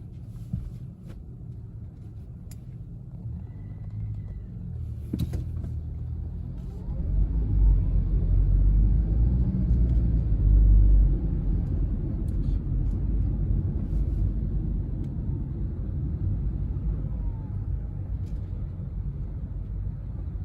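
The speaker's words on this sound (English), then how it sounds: "it's really a traffic in the way to Hampton" Slow bumper-to-bumper road traffic on the way to Hampton, heard from inside a car as a steady low engine and road rumble that swells midway, with occasional faint clicks and no talk.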